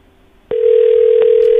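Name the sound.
telephone ringing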